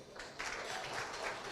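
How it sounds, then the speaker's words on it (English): Audience applause after a brief address at a Kenyan civic event, a steady wash of many hands clapping that swells after a short quieter start and holds evenly throughout. "A better round of applause for Zaha Indimuli"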